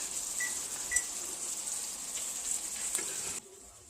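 Thinly sliced chicken breasts sizzle steadily in a skillet over high heat, a close, even hiss with a few faint clicks, cutting off abruptly near the end.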